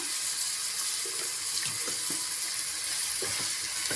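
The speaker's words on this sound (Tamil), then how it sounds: "தக்காளி நல்லா வெந்து சாஃப்டாகி வரட்டும் அது வரைக்கும் வதக்கி விட்டுக்கோங்க" Three tomatoes with a little salt sauté in a pan for chicken gravy, giving a steady, moderate sizzle with a few soft stirring knocks and scrapes.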